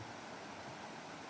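A river flows beneath a bouncy footbridge, making a steady, unbroken broadband rush like a stream or small waterfall, moderately distant and even throughout, with no voices.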